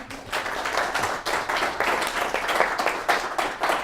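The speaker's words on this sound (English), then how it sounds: "give Bob an awesome round of applause" Audience applause for a guest speaker at a business mastermind meeting; brisk, lively clapping from a small-to-medium crowd, close and continuous with rhythmic surges, no talking over it.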